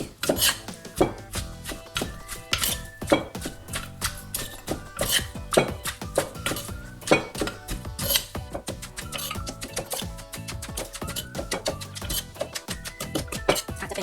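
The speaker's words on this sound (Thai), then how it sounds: "แล้วก็โขลกเข้าด้วยกันนะคะ ง่ายๆเลย" A pestle pounds Lao papaya salad with rice noodles in a mortar, rapid irregular thuds and knocks continuing throughout, loud and close with no talking.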